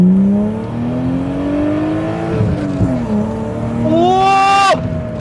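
A BMW E36 M3 pulls away from first gear on an empty road, its engine note climbing steadily through the revs to a loud, strained peak near redline before cutting off, close and continuous.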